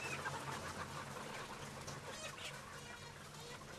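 Chickens cluck softly and steadily in a poultry house during ocular-nasal vaccination, a continuous murmur of many birds with no voices over it.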